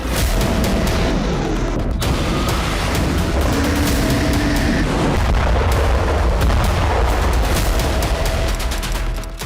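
A missile test launch at Abdul Kalam Island, Balasore, Odisha, sounds as a continuous, loud, rumbling roar with crackling bursts that persist throughout.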